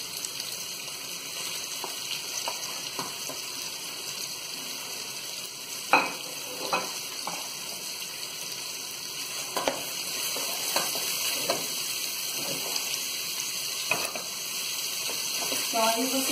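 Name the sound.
bacon frying in pan for farofa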